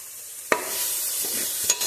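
Spices for a fish curry fry in hot oil, a soft steady sizzle broken by two sharp clinks of a spoon against the pan, with no one speaking.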